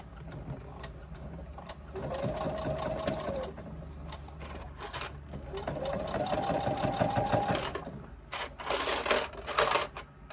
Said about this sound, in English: This is probably the thickest that you will get that you've got to sew through, is this seam that you're constructing.